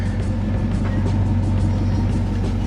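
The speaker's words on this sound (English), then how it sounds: "right now we finna pull off in the car and see how I ride for the first time on these 24s with the suspension mods" A car with 24-inch wheels and suspension mods pulls off, a steady close engine and road rumble with low drone throughout and no talking.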